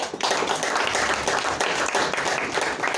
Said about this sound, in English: I was thinking I will get clap for many other statements to follow